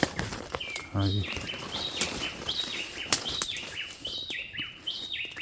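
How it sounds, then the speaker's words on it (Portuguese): Small bird chirping outdoors near banana plants at an old Tupi-Guarani village site, giving repeated short high tweets at close to middle distance, with light rustling and a few sharp clicks around them. "Ó, passarinho."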